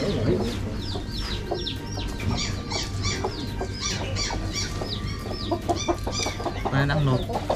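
Chickens cluck and chatter continuously, close and busy, with repeated rising calls from several birds over a low background hum.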